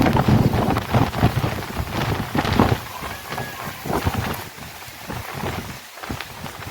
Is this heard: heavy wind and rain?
yes